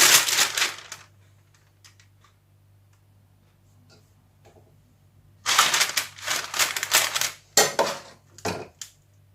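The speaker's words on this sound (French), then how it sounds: "Je vais mettre une feuille de papier sulfurisé." Parchment paper being handled and placed into a baking dish for a potato gratin; crisp crinkling and rustling in two bursts, the second longer, separated by a quiet stretch with faint light taps.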